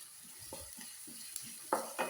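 Onion and chilli stirred together in a frying pan, a quiet sizzle with soft rhythmic scraping strokes and a couple of sharper spoon taps near the end.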